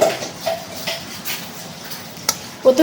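A chopped medium onion goes into a pan of hot oil for a rohu fish roe dish, giving a soft, faint sizzle with a few light clicks of spatula or pan scattered through it and a louder clatter at the end.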